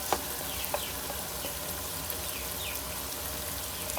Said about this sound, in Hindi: 1 से 2 मिनट तक अच्छी तरह मसाले को भूनते